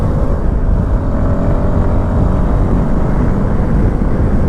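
Royal Enfield Himalayan 450 motorcycle overtaking at speed on a highway, a steady loud engine drone blended with heavy wind rush throughout, no talking.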